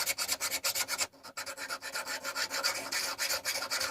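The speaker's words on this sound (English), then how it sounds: "So I just get a file and I draw file it, put it on flat, right across both surfaces." A metal hand plane, a Footprint No. 5 with rust on it, is draw filed flat across its surfaces with a hand file, giving close, loud rhythmic rasping strokes with a short pause in the middle.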